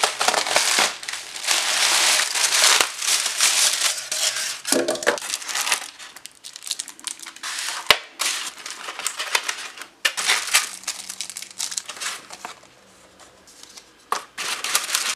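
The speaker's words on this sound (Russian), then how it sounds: "Ну, как всегда, распаковка." Someone unpacks a 3D wall clock package ordered from AliExpress, with close, loud crinkling and rustling of plastic wrap and packing material in bursts, broken by brief quieter pauses.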